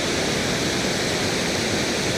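Cave Falls on the Falls River in Yellowstone National Park roars as a steady, dense rush of falling water, loud and unbroken throughout with no voices.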